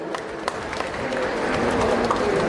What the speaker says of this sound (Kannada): ನಿಮ್ಮ ಜೋರಾದ ಚಪ್ಪಾಳೆಯೊಂದಿಗೆ ಅವರಿಗೆ ಅಭಿನಂದನೆಗಳನ್ನು ಸಲ್ಲಿಸಬೇಕಾಗಿ ಕೇಳಿಕೊಳ್ತೇನೆ